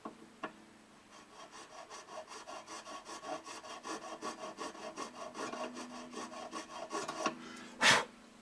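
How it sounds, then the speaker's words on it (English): A small file rasps through the nut slots of a Martin D28 acoustic guitar in quick, even back-and-forth strokes, close and quiet, ending with a brief louder scrape. "There again, filing at the same angle as the headstock."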